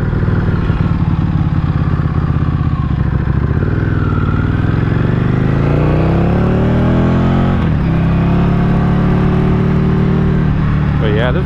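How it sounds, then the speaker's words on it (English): A motorcycle engine runs close and loud, a continuous throbbing drone that climbs in pitch and settles again as the throttle rises and falls, with someone talking over it. "this bike runs good. I mean, it's got tons of power."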